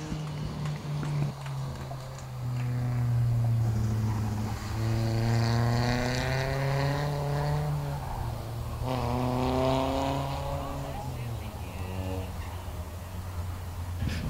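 Race cars, including a Crown Vic, roar around the oval at Heart O' Texas Speedway on the final laps, engines rising and falling loudly as cars pass close by, with a public-address announcer in the background.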